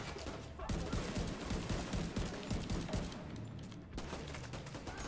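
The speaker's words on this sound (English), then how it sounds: "This turret is killing me." Turret gunfire in The Division 2 video game, rapid bursts of automatic shots hammering in a fast rhythm, pausing briefly before resuming, fairly quiet overall.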